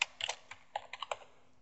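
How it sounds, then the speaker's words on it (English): Keys clacking on a computer keyboard while text is typed into a diagram application, a short run of crisp, close taps in small irregular bursts with no voices. "I'm just going to select the group here and type in some text."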